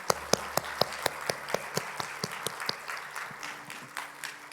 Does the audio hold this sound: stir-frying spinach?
no